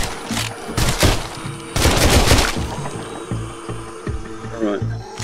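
Bursts of close, loud gunfire from guns in the VR zombie game Arizona Sunshine, horde mode: clusters of sharp shots, a dense volley in the middle, then scattered single rounds with clicking handling noises between.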